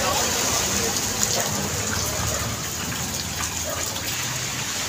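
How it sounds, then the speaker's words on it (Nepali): Heavy rain pours in a continuous rushing wash with splashing and dripping water close by, loud at first and easing slightly toward the end. "पानी चाहिँ धेरै परिरहेको छ"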